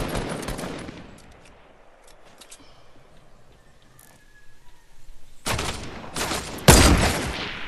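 Gunfire rings out in a shooting video game, an opening burst of shots, then a quieter stretch before heavy bursts return near the end, loudest at the close.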